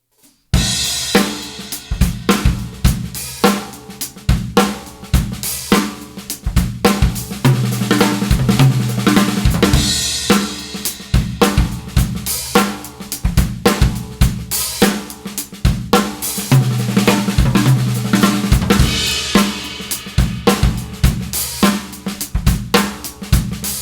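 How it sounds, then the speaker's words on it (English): A full drum kit plays a groove broken up by rolling triplet tom and snare fills, loud and busy, with cymbal wash throughout and no voices. "you're going to be playing that thing as drum fills"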